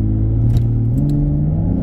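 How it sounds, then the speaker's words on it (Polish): A Volvo V60 Polestar's 3.0-litre 350 hp turbo straight-six revs and accelerates hard from 0 to 100 km/h, a steady low rumble climbing gradually in pitch, heard close from inside the car. "Pierwsza 0-100 Volvo V60 Polestar 3-litrowe"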